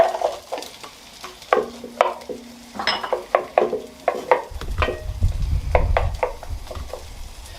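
Finely chopped pink Brittany onions fry over fast heat in olive oil, a low sizzle running under close, irregular clicks and taps of stirring that grow busier toward the end.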